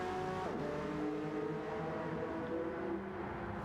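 Honda NSX race cars in a touring-car racing game, engines droning steadily and loudly throughout with shifting harmonic pitch as they run close together in practice, no talk.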